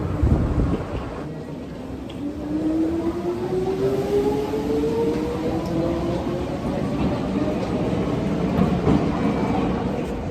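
A train rumbles along the tracks with a steady low roar and a rising tonal whine, as if heard from inside a moving carriage.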